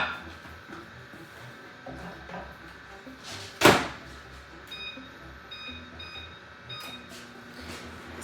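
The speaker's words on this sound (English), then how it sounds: "So I indicate 8 minutes cooking on the microwave." A microwave oven is set to heat potatoes for a Spanish omelette: a sharp door thud, then a few faint, high electronic keypad beeps spread over the next seconds in a quiet kitchen.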